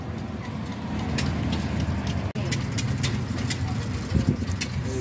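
Large Fairbanks Morse stationary engine of 7,850 cubic inches with air start, idling at about 210 RPM at an outdoor tractor show; a steady low rumble with periodic beats continues throughout, with crowd noise in the background.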